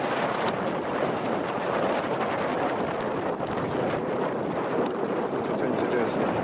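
Wind blows hard over choppy water during boat fishing in windy weather, a loud, steady rushing roar with gusty buffeting against the microphone throughout.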